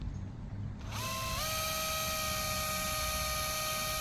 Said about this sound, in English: put the valve in the drill, turn it down a little bit, and then you turn it